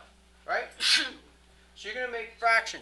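A single sharp sneeze bursts out in an algebra classroom during a polynomials lesson, landing between stretches of a teacher's explanation and clearly audible under the talk.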